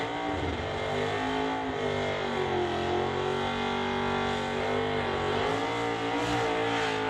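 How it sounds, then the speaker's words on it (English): A 1988 Fox Body Mustang drag car with a 302 engine, K-Stock automatic, running at a drag strip: a steady, loud, sustained engine roar with rising and falling pitch as it pulls, heard alone. "the Fox Body Mustang, the K-Stock automatic machine."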